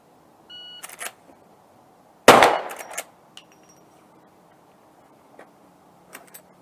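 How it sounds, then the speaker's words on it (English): Bolt or lever action rifle being cocked and fired, then the bolt racked: a few sharp metallic clicks, one loud shot with a ringing decay, then further mechanical clacks and faint ticks. "cock it, fire, rack the bolt, fire again if needed."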